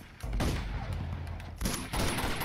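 Gunfire in a firefight in the video game Uncharted 2, with dense, rapid shots and heavy low rumble running throughout and a fresh loud burst near the end.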